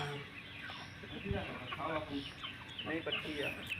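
Aseel chickens, Punjabi fighting-breed hens, cluck and chatter in short, irregular bursts close by, with faint background noise and no clear speech.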